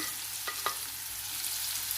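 Cumin seeds and spices sizzle in hot oil for a tadka (tempering) with a steady crackling hiss, and a couple of quick stirring scrapes cut through near the start.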